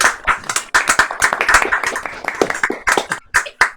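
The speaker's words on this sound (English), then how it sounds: "Are you going to join me and give Glen Rock a round of applause?" Close, loud clapping from a few people at a village carol festival sing, quick irregular hand claps in bursts with short pauses between them.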